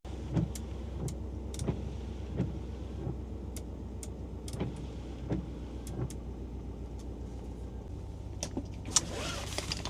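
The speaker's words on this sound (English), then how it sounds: "I'm gonna let the truck warm up a little bit" A truck engine idles steadily while warming up, a low constant rumble close by, broken by occasional light clicks and thumps from inside the cab and a brief rise of noise near the end.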